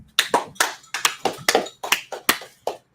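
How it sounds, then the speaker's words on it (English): A congregation at a Sabbath service claps for a brother in about ten sharp, loud bursts of applause, spaced roughly every quarter second and ringing out with no talk. "clap it up for the brother"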